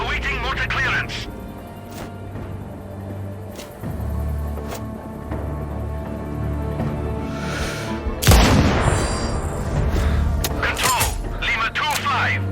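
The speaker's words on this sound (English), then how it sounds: "Continuing mortar fire." Mortar fire in the video game Sniper: Ghost Warrior Contracts 2, a heavy boom and crack bursting in partway through over an ongoing low rumble, with radio-style voices talking throughout.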